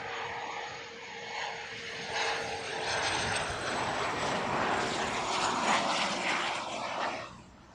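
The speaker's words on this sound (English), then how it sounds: "that could well be the first bizjet ever" A business jet flies at Heathrow Airport, a continuous loud engine roar with a high whine that swells and holds steady throughout.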